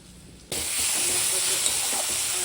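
Eggs frying in hot oil with spices for an egg kosha curry, a sudden loud sizzle bursting in after a brief quiet start and then holding steady and dense throughout.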